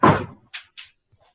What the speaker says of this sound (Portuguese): Deixa eu fechar a porta, que tá um barulho aqui.